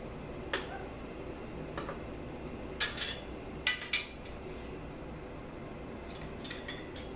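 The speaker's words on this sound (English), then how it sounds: "Just going to go ahead and position the lid on." A metal lid is set onto a glass canning jar of homemade tomato sauce, giving a few faint, sharp clinks and taps over quiet room noise.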